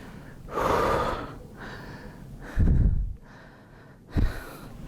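Heavy, labored breathing from a person who feels hot and soaked, with three loud gasping breaths close up and alone, one long and two shorter, separated by quieter pauses.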